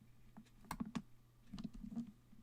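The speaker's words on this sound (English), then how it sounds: "It sounds like the dude typing on the other side." Faint keyboard typing, a few quick clicks and taps in uneven bursts, heard at low level over a quiet background with no speech.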